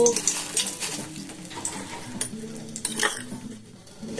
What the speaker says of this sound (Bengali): একটা শুকনো লঙ্কা মাঝখান দিয়ে ফাটিয়ে ওটা দিয়ে দেবো ফোড়নে